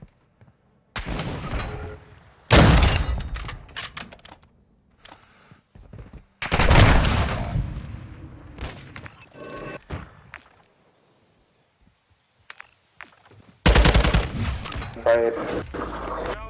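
Gunfire in a first-person shooter game comes in a few loud, separated bursts of rapid shots, with quiet gaps between them and a final volley near the end.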